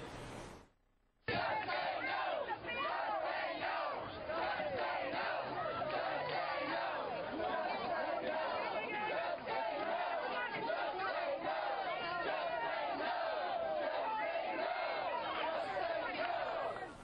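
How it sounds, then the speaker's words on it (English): A large protest crowd at a grocery store town hall event chants and shouts in unison, a loud dense roar of voices that holds steady throughout after a brief quiet start. "What you may or may not be able to make out there is the crowd yelling, "Just say no, just say no.""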